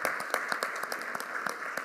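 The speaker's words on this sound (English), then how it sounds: "Big round of applause for that." An audience claps at a public schools address, the applause close and fairly loud, with sharp individual claps sounding over the steady patter.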